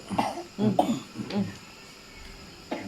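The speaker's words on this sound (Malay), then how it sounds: "Ah, batuk pula." A small child coughs several times in quick, soft bursts, then again after a short pause, close and fairly quiet.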